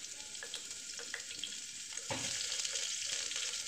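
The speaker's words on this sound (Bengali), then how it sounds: "দিয়ে এর মধ্যেই একটু ভেজে নেব হালকা করে" Diced potatoes with spices hiss and sizzle steadily while being lightly fried in a pressure cooker for a chicken dish, a continuous crackling close by that grows louder partway through, with no talking.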